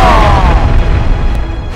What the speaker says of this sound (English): Let's see how you like our cannon!